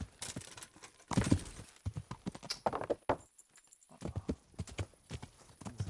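Horse hooves in the video game Kingdom Come: Deliverance, a run of clip-clopping hoofbeats in uneven bursts, with a brief pause in the middle before the rhythm resumes.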